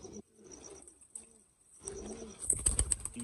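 Old-breed Sialkoti and French pigeons cooing in low, soft bursts, with rustling and brief fluttering growing louder toward the end.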